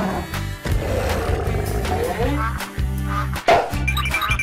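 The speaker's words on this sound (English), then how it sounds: "Godzilla." A Godzilla roar sound effect: a loud, rough, sustained bellow with jagged pulses and a couple of brief drops, ending in a sharp burst, heard up close over a bed of other noise.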